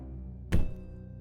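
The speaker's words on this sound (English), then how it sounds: "A louder thud replies." A single loud, dull thud from the ceiling of a dim stairwell, one short heavy impact standing alone against near silence.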